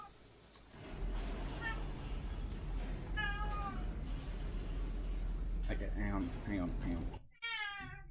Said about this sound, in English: Cat's come to complain about something.